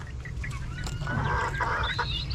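Several chickens cluck close by while eating after being moved to a new pen, a busy overlapping chorus of short calls over a steady low background.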